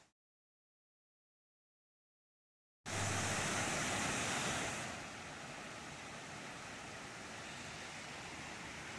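After a few seconds of silence, the creek along the Stillhouse Hollow Falls trail comes in as a steady, dense rush of flowing water, fairly close and continuous.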